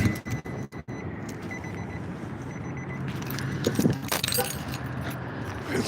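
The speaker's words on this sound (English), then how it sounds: "Got my keys on the thing" A ring of keys clipped onto something jangles, with sharp metallic clinks at the start and then continued soft rattling over steady background noise, close to the listener.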